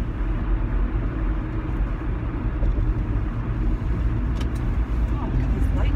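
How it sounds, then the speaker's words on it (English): Road traffic passes steadily, a continuous low rumble of cars and other vehicles heard from inside a moving car, with faint higher whooshes near the end. "look at these light traffic levels today"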